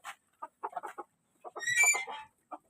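White chickens, a rooster among them, at feeding time on a backyard farm give bursts of short, close clucks, then a louder drawn-out squawking call, then one final cluck.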